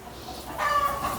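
A brief, close cluck from a chicken, rising partway through over a soft background rustle.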